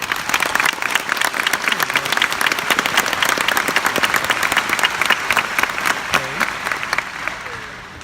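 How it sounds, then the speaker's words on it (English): A graduating class and audience at a high school graduation ceremony give a round of applause, dense and loud throughout, with some crowd voices mixed in and a slight fade at the end. "Let's have a round of applause to acknowledge that."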